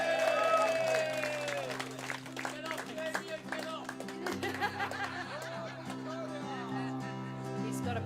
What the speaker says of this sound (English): give a big round of applause for the wonderful Victoria